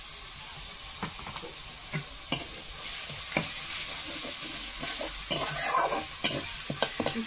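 Onion and garlic paste fry in a pan with a steady, close sizzle and hiss, broken by scraping stirs and occasional louder spatters, and no talking.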